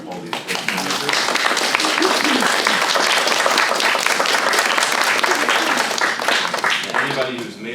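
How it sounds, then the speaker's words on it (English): A panel audience at a film festival breakfast claps for filmmakers, loud, dense, continuous applause from a crowd of many hands that holds steady for several seconds. "start with a round of applause for all these great filmmakers"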